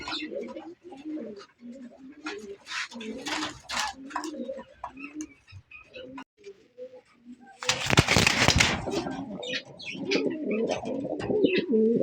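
Pigeons in a loft keep up steady cooing, then a burst of loud wing-flapping rises midway and gives way to more restless fluttering. A voice speaks in between.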